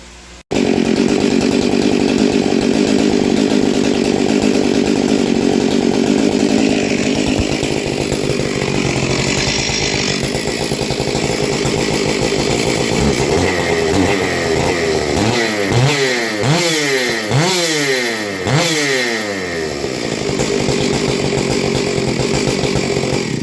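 A Stihl MS-461 chainsaw with a modified muffler runs loud and close inside a garage, idling raggedly then revving up and down in repeated bursts with a slight stutter.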